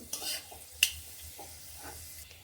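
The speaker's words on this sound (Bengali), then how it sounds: "একটি শুকনো লঙ্কা দিয়ে দিচ্ছি আর দিয়ে নিচ্ছি পাঁচ ফোড়ন কয়েক সেকেন্ড নেড়ে নিচ্ছি ফোড়ন" One dry red chili and panch phoron five-spice seeds sizzle steadily in hot oil in a pan, close up, while a spatula stirs through them with a few scraping strokes and one sharp metallic clink; no voices.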